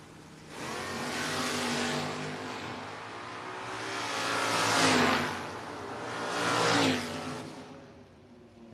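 Drag race cars in a no-box 660 shootout, including a 1973 first-generation Camaro, roaring loud engines that swell and fade in waves as the cars accelerate down the strip, no talking.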